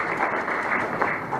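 An audience at a national dialogue on nutrition in Uganda claps for mothers. The brief, fairly loud applause sounds like a steady wash of many hands.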